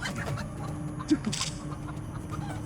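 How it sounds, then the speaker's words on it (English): Chickens clucking in a warm Singapore park, a few soft, short clucks over a steady outdoor background hum, with one brief louder call partway through. "There's a lot of chickens around here."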